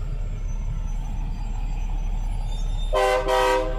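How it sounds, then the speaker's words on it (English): A truck or train horn in a rail-side setting sounds two short, loud blasts near the end, after a stretch of steady outdoor rumble with no talk. "Let's see if he honks."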